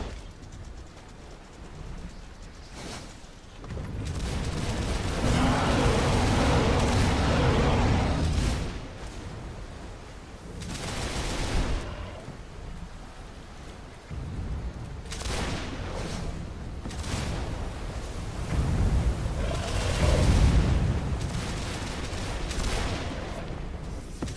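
Repeated bursts of gunfire blasting at a dragon in the video game Arcane Odyssey, loud and sustained in several waves with booming, explosive impacts, with no talking.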